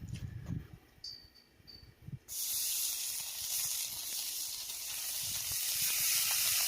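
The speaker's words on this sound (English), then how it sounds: "Let's go ahead and put some bacon on" Bacon hitting a hot Camp Chef grill: a couple of seconds of soft handling knocks, then a loud, steady crackling sizzle that spreads and holds to the end.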